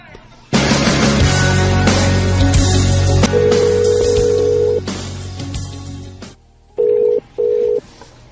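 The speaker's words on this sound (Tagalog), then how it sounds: "Sige lang ring ang cellphone, pero dili gid matubag." A cellphone rings repeatedly and goes unanswered, a sustained electronic ring tone over a loud music backing for several seconds, then two short separate ring bursts near the end after the music drops.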